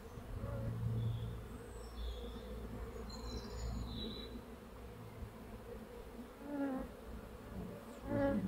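Honeybees buzz steadily near a hive during a transfer from a mini-plus to a Warré hive, a close continuous droning hum with occasional louder individual bees passing by.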